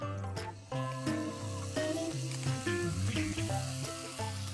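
Ingredients for Hyderabadi mutton pulao fry in a pan with salt added, giving a steady close sizzle with layered tonal sounds over it.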